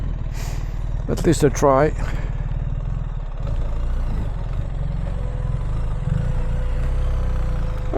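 A BMW R1300GS Adventure motorcycle on a break-in ride, picking its way across off-camber ground: a steady low engine drone runs throughout, with the rider talking briefly over it early on.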